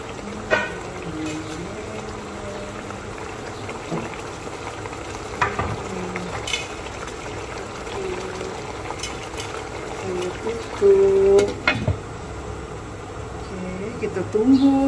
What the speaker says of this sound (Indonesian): Okay, saya masukkan buah terong.